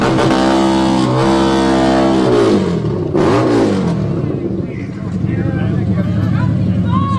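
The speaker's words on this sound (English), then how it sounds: "This guy was revving his motor" At a street rally, a motor is revved hard nearby, loud and continuous, its pitch rising and falling with throttle bursts, while voices sound underneath.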